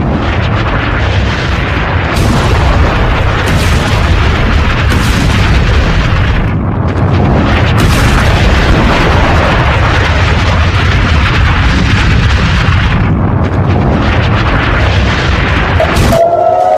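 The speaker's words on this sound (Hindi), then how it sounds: "धमाका इतना जबरदस्त था।" A massive explosion from a submarine-launched missile striking a ship at sea: a loud, sustained roaring boom that rumbles on without pause, with no speech.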